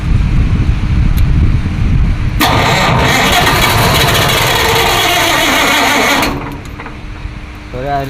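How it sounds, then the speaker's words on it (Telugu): A generator engine started with a key: a steady low hum, then a loud cranking roar kicks in for about four seconds before dropping back. Someone speaks over it. "అన్ని జనరేటర్లు ఒకలా అయితే ఉండవు తాళం స్టార్ట్ చేసేవి దీనికైతే తాళం పట్టుకుని తిప్పుకొని ఉండాలి అప్పుడు స్టార్ట్ అవుతుంది"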